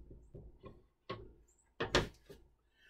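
A wooden door on handmade wooden hinges is swung open and shut in a quiet room, giving soft creaks followed by a few sharp wooden knocks and thuds.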